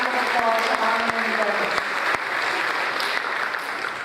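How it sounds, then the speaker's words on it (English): Audience at a school board of education meeting giving a steady round of applause, dense clapping throughout with faint voices underneath, tapering slightly toward the end. "So please, even though he's not here, a round of applause honoring"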